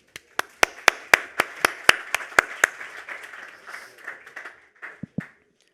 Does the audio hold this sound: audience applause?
yes